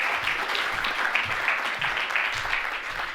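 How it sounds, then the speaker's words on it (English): An audience claps in sustained applause at an innovation pitch event, a dense steady patter of many hands at moderate distance. "Round of applause, please."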